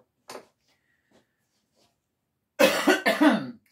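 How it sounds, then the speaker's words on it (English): Two bursts of coughing near the microphone, one short and faint early on and a louder double cough at the end, during a lamp makeover craft session. "I had to turn away to cough because I don't want this to go everywhere"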